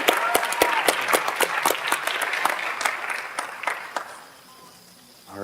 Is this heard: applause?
yes